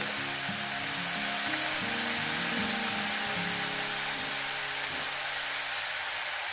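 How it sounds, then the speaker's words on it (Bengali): Bathua greens frying with dried shrimp and salt in a pan make a loud, even, unbroken sizzle close up, with low tonal hums underneath and no talk. "এটাকে আমি ভাজবো যত সুন্দর করে ভাজবেন ততটা টেস্টি হবে"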